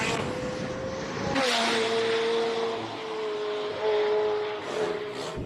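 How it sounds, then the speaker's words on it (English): A McLaren 720 launches off the start line at a King of the Mountain hill-climb speed event in Cape Town. The engine is loud and sustained, with a sharp surge as it pulls away and a steady high drone that holds at close range. "Garth McIntosh launches his 720 off the start line."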